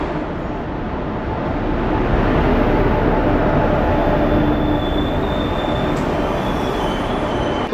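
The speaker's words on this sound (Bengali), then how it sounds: "আর আমাদের 12857 তাম্রলিপ্ত এক্সপ্রেস ঢুকছে।" Tamralipta Express 12857 rolls into a station, a loud steady rumble of railway cars with wheel noise and a faint high squeal, continuous throughout and close by, with no talk.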